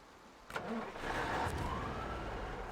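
A truck engine in SnowRunner rises to a louder steady rumble after a soft start, with a brief tonal whine mixed in and no talk.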